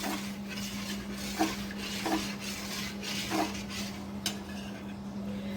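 A spoon scrapes and knocks against a pot while mango pickle spices and fennel seeds are mixed, a few soft taps over a low steady hum, close and without talk.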